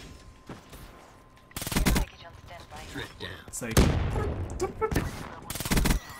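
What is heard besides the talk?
suppressed gunfire in video game Call of Duty: Black Ops 3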